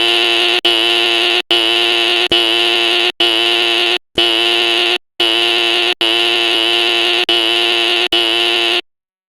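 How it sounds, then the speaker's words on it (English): A fire alarm blares in loud, steady buzzing pulses, each lasting about a second and separated by short silent gaps, repeating continuously with no voices over it. "I'm going to pull the fucking fire alarm."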